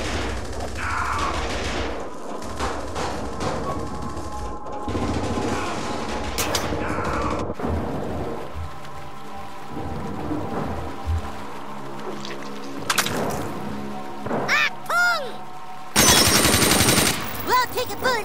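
Automatic gunfire bursts from the South Park: The Stick of Truth video game, rapid fusillades and booms repeating throughout amid game music and voices talking over the action.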